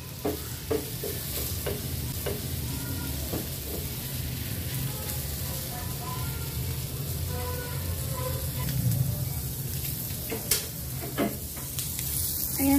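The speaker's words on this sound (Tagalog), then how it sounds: "Pan-fry natin guys, kunting oil lang" Chicken mince frying in a little oil in a pan, a steady dense sizzle running throughout with occasional stirring scrapes and clicks, close and continuous.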